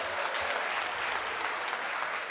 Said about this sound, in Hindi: तालियां एक बार मिलकर बजा दीजिए जोर से